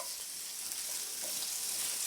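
Food frying in a pan on high heat, with a steady, close hiss of sizzling oil running the whole time and no talk over it.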